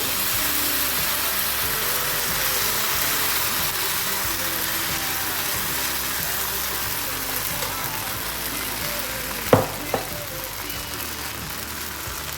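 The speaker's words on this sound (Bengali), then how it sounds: "তো আমি এরকম করেই সব কটা ভেজে নিয়ে ফিরে আসছি" Rice and sabudana batter fries in oil on a pan with a continuous soft hiss, and two sharp utensil clinks stand out near the end.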